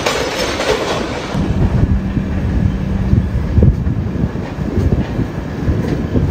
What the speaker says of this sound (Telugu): అసలు నెక్స్ట్ లెవెల్ 90 degrees తిరిగింది ట్రైన్.